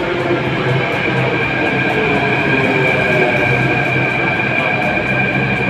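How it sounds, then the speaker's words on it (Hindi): A Delhi metro train pulls into the station with a steady, loud rolling hum and a sustained high-pitched electric whine, the sound even and continuous with no talking. "तो फाइनली हमारी मेट्रो आ रही है"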